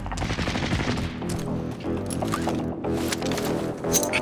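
Dense, overlapping gunfire from a video game's Rebirth end-game fight crackles without pause, with layered rapid shots and bursts throughout.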